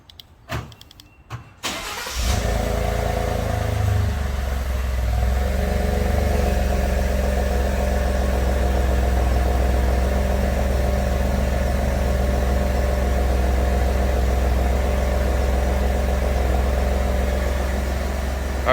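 A 2016 Ford F-150 with the 2.7L EcoBoost on its stock exhaust starts up after a few clicks and settles into a steady, low, continuous idle, close and alone for the rest of the clip.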